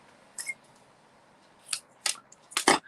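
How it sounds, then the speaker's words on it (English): A few crisp snips of ribbon scissors cutting ribbon, spaced irregularly with a quick double cut at the end, close and quiet otherwise. "Ribbon scissors."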